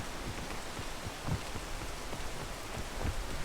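Rain pours in the video game PEAK, a dense continuous hiss with a few soft low thumps like distant rumbles scattered through it.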